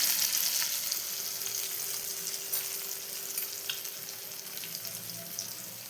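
Semolina-coated surmai fish frying in a pan, Malvani style, a continuous even sizzle held close, slowly easing in loudness, with no voices over it.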